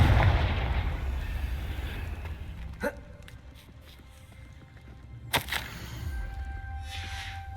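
A Confringo fire spell in Hogwarts Legacy: a heavy, rumbling blast that fades, followed by two sharp explosive cracks a few seconds apart over low game ambience.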